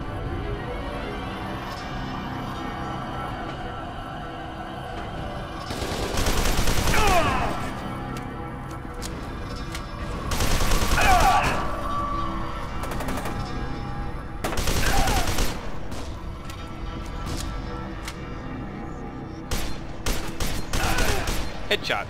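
Assault rifle fire in the shooter game F.E.A.R. 2, arriving in several loud bursts a few seconds apart over a steady rumble of game ambience, with talk in between.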